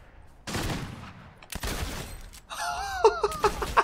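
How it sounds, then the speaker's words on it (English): Gunfire in the video game Fortnite comes as two sharp, loud shot bursts, followed by further clattering game sound effects. "First shot I've fired at an actual person."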